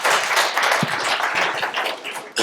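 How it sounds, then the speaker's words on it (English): Audience applause at a talk on time management and productivity habits, a dense continuous wash of clapping from a crowd lasting about two and a half seconds at steady volume. "So give Wilson a round of applause."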